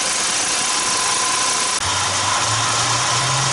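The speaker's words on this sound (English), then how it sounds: "as you can hear, this engine's running good now" A 2006 Volkswagen Jetta 2.5 engine idles steadily up close after a valve cover and PCV repair, a constant broadband hum with a faint low throb that picks up slightly partway through.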